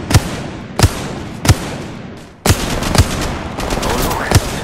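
Gunfire in Apex Legends Mobile: about six loud, sharp single shots at uneven intervals, each with a short ringing tail, close and prominent over low game ambience.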